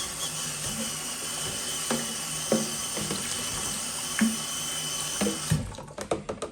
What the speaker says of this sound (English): We might give that a quick rinse because that water is already quite dirty.